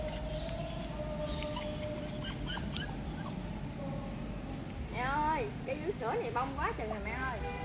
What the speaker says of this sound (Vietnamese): Đi bốn con chó chạy theo.